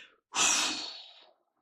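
A person breathes out deeply in a single long, soft exhale during a relaxation session, close and quiet, fading gradually in a silent room.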